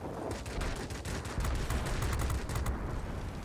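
Four 20mm cannons on an IL-10M attack aircraft fire in World of Warplanes, a continuous rapid rattle of shots over the steady drone of the aircraft, loud and unbroken throughout.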